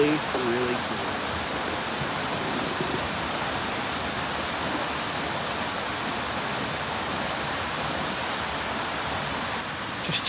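A waterfall pours in a snowy, ice-covered national park in winter, a steady broadband rushing hiss that stays even and moderately loud throughout, with a brief voice at the start.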